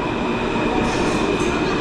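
A New York subway train rumbles through a station, a steady loud roar of wheels on rails with a faint metallic squeal, continuous and close throughout.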